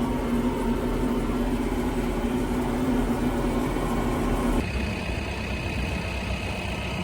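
A tractor with a 21 mph road speed runs steadily on the road, a loud continuous drone that shifts to a lighter, higher tone near the end.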